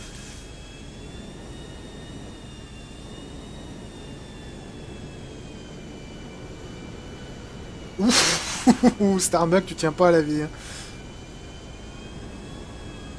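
Helicopter engines in Grand Theft Auto V Online whine steadily in the background, a constant tonal hum at moderate level, with someone briefly speaking over it near the end.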